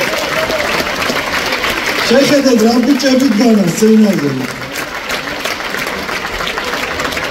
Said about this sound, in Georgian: ცოტა უფრო ხანგრძლივი ტაში